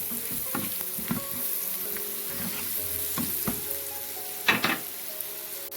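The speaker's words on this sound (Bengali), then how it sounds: "হাফ টিস্পুন লাল মরিচের পাউডার এবং হাফ টিস্পুন কারি পাউডার দেয়া বারো সব কিছু পেঁয়াজের সাথে খুব ভালো করে মিশিয়ে নিচ্ছি" Onions frying with red chili powder and curry powder, a close, steady sizzle with repeated scraping stirs and a louder clatter near the end.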